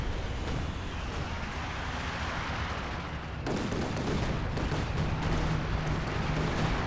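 Airstrike and gunfire in Company of Heroes 2 during a 4v4 Lanzerath Ambush match: dense, loud, continuous battle noise with rattling small-arms fire, and a heavier burst of blasts breaking in halfway through.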